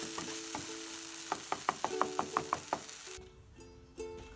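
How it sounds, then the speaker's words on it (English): Tomatoes fry with onions, garlic and chili in a pan, a soft sizzle broken by a quick run of stirring knocks before the sizzle drops away, close and fairly quiet, with no talking. "I have fried my tomato mix with onions and garlic."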